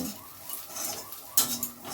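Frying onions are stirred in a pan with a metal spoon that clinks and scrapes against the vessel, a few sharp knocks over a low sizzle, close and without speech.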